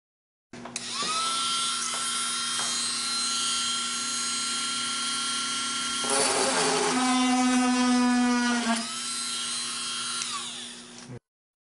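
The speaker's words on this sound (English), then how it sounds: "Utilize the low speed on your drill to create an access point at the center of the brake" A small drill on low speed whines steadily at a high pitch as it bores into a chip in windshield glass, its tone shifting and straining partway through before it stops abruptly.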